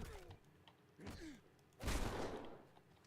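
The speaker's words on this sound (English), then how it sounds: "I think that gunfire might have woken them up." Burst of gunfire in an alien-shooter video game, a sudden loud blast of shots after a quieter stretch with faint creaks and mechanical noises.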